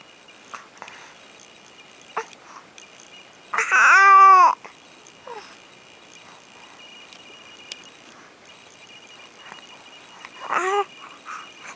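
Infant cooing in two short bursts: a sustained, pitch-gliding coo near the middle and a briefer one near the end, both close and clear over quiet room sounds.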